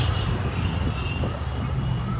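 A super car's exhaust droning low and steady while cruising slowly, with constant road rumble and no talking.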